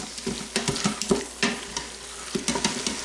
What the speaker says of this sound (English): now we're going to mix everything together, okay? Make sure, again, scrape the bottom.